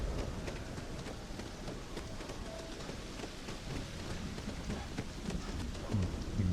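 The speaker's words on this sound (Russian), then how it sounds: "Дождь с грозой." Rain with a thunderstorm in Starfield: a dense, steady downpour patters close and loud throughout, with low rumbling underneath and faint bird calls in the background.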